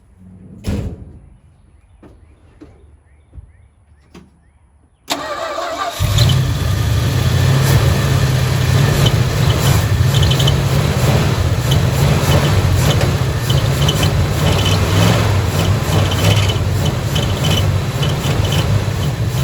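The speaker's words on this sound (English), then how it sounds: "I like the way this old truck sounds." A 1969 Dodge 3/4 ton truck with a backfire problem: a few quiet clicks and knocks, then the engine catches abruptly and settles into a loud, steady, rumbling idle that runs on without a break.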